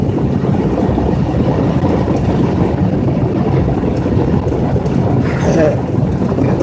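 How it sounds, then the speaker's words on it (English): A continuous low rumble from an old Volkswagen engine mixed with wind noise, steady and fairly loud throughout, like riding along inside an older vehicle. "Old VW engine there"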